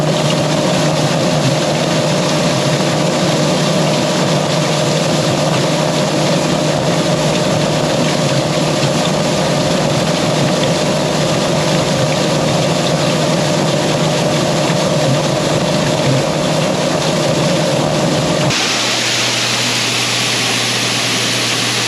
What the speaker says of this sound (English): what we just put in place is what's referred to as a sweep auger